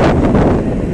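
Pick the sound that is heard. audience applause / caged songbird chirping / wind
wind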